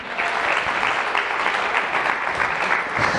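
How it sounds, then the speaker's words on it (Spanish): A church congregation claps steadily and loudly, a broad, even wash of many hands that lasts the whole few seconds without a break and with no talk over it. "dale un aplauso al Señor"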